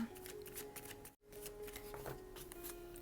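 A deck of tarot cards being shuffled for a reading produces repeated close, crisp riffling bursts with a brief pause partway through.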